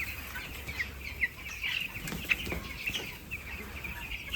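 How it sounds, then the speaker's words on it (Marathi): Chickens at a poultry shed with small chicks give soft, scattered clucks and brief calls, fairly faint against a low background hum, with a little wing movement. "ते कोंबड्या पण तुम्हाला दाखवतो मी"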